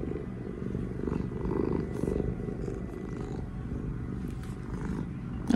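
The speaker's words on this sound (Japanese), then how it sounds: "ゴロゴロ言うと聞こえる？" A two-year-old rescue cat purrs steadily and softly up close, a continuous rumbling purr with no talk.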